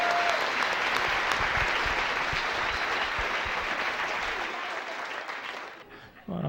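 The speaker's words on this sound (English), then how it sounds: "Give him a round of applause" A comedy club crowd gives a comedian a round of applause, a loud sustained clapping that gradually thins and fades before a brief pause and a sudden return of room noise at the very end.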